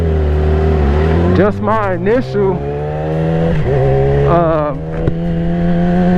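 A Yamaha R6 motorcycle on a dyno revs loudly in several rising and falling sweeps, its engine pitch climbing and dropping close up, with a voice talking over it.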